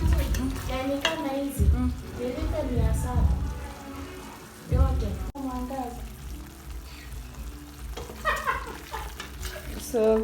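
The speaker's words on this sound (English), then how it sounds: "So I'll cover, let it simmer." Chicken gizzards simmering in a pot on low heat, a steady bubbling and stirring with clattering utensil sounds and a lid going on midway, loud and close.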